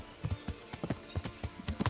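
Horse hooves clip-clop in a steady trotting rhythm with a brief whinny, a mount in Kingdom Come: Deliverance, moderately loud and close with no talk over it.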